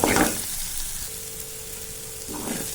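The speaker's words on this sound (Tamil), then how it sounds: "தக்காளி, வெங்காயம், கருவேப்பிலை, பச்சை மிளகாய் எல்லாமே நல்லா வதங்கி வந்துடுச்சுங்க" Tomato, onion, curry leaves and green chilli frying together for an egg masala, a soft steady sizzle with stirring bursts at the start and end, close by and with no voices.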